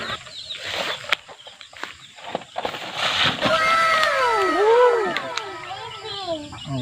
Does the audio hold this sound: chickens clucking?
yes